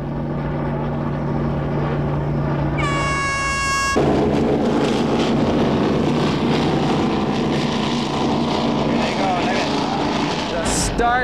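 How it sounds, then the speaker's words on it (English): Many racing powerboat engines drone together, then a sudden louder burst of roaring motors as they take off at a race start, a dense, loud, sustained snarl. "hear the snarl of all the boats starting up at the same time and hear them take off."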